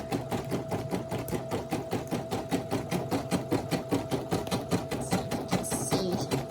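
A Brother SE1900 embroidery machine stitches a Santa hat, its needle tapping in a fast, steady mechanical rhythm close by, with a faint higher whir near the end.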